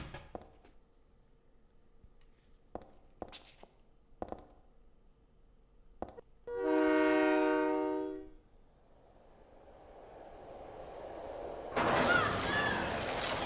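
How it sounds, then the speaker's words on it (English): A train in a video game sounds a sustained horn-like blast of about two seconds among scattered sharp game clicks and thumps, followed by a rising rumble and a loud noisy burst near the end. "I get hit by the train again"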